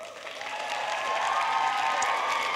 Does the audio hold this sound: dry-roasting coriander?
no